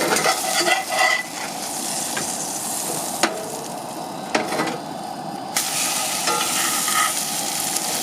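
Food sizzles and fries in a pan on a camp stove in the Los Padres National Forest, a loud steady hiss broken by scraping stirs and a few sharp clinks.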